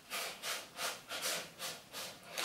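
A cat scratching in a litter tray makes quiet, rhythmic scraping strokes, about six even bursts of gritty rubbing in a steady back-and-forth pattern, with no talking.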